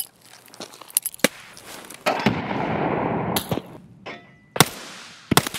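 Grenades going off in a tactical shooter video game, with sharp bursts scattered through the clip and a loud sustained rushing blast in the middle, alone without talk.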